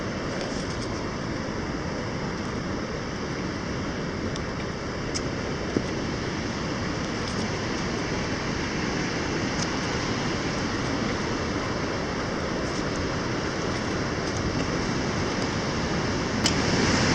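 A waterfall on a river below a gorge on Minnesota's North Shore in April, a steady, dense rush of falling water that holds an even roar throughout with no voices.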